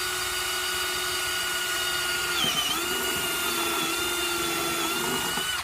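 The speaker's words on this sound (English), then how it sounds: "So now I'm going to go and drill the hole." A power drill whines steadily and continuously, close by, its pitch dipping briefly midway as the bit bites before settling back to a constant drone.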